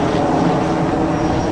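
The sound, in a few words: TUI Boeing Dreamliner jet aircraft at airport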